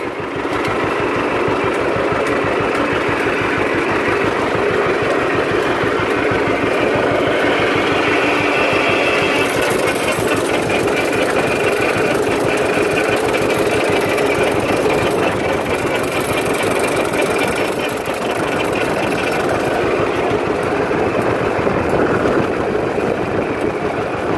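A John Deere Model 60 tractor drives a John Deere 39 sickle bar, its engine chugging loud and steady close by with a throbbing rhythm, the cutter bar's clatter blending into the continuous mechanical roar.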